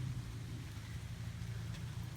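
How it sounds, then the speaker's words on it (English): Rain falls outside on a front porch, a dense continuous hiss with a low rumbling undertone throughout, no voices. "Thankfully, it's raining."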